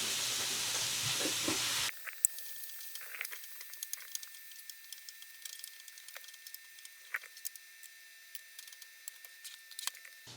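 Rinsed beans heat in a frying pan, giving a quiet, steady sizzle with scattered small pops and stirring clicks after a brief louder burst at the start.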